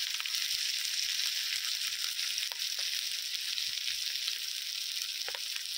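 Spices and turmeric sautéing for a cauliflower and potato curry, an even, fairly quiet frying hiss with a few small stirring clicks, no talk.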